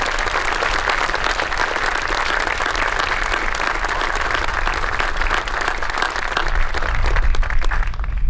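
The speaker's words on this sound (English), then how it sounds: "Please join me with a round of applause for these dedicated educators." Graduation ceremony audience applauding retiring teachers: loud, dense clapping from a large crowd, steady and sustained throughout, swelling slightly near the end, with no talking over it.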